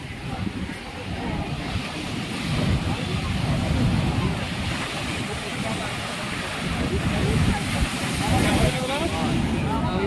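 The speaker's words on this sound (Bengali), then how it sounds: "প্রচন্ড উত্তাল হয়ে গেছে একদম সমুদ্র" Rough surf crashes and roars continuously, with gusty wind buffeting the microphone throughout.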